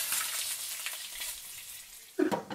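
Mutton masala frying in oil in a pot gives a steady, fairly faint sizzle that carries on throughout, with a short louder stir or clatter near the end.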